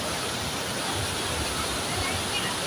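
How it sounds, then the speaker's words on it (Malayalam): Vazhachal waterfall roars continuously as a dense, loud wall of rushing water, steady and unbroken throughout. "വാഴച്ചാൽ വെള്ളച്ചാട്ടം"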